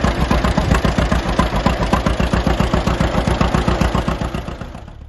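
Old John Deere two-cylinder Model A tractor engine thumping out its exhaust note in a steady, loud, even rhythm of pops, close by and unaccompanied, with the beat fading slightly toward the end.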